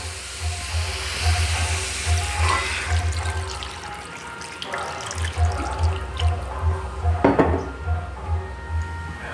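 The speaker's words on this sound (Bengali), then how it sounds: "মশলার সঙ্গে আলু আর সয়াবিন ভালো করে কষা হয়েছে। এবার আমি জল দিয়েছি।" Water splashes and rushes into a pot of potatoes and soybean chunks sautéed with spices, a hissing pour close by with a low intermittent hum underneath.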